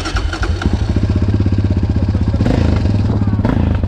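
Quad bike engine firing up close by, settling into a loud rapid chugging idle with clattering pulses, then blipping the throttle into brief revs; someone speaks faintly.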